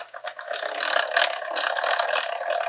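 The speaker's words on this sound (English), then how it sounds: "I've never embossed with this little die cutting machine" A small die cutting machine embossing card stock gives a steady, close mechanical whirring and ratcheting clatter, with gears grinding continuously as the plates roll through.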